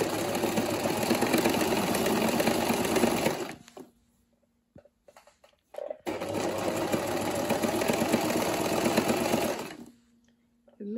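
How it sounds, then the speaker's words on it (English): A sewing machine runs round the inner of a ruched statement headband in two loud, close bursts of steady stitching, each a few seconds long, separated by a quiet pause with faint handling noises. "So I'm going to sew it round."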